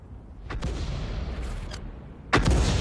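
An M44 self-propelled artillery gun in a tank battle video game fires shells, two sharp booming reports with rumbling tails over steady engine drone.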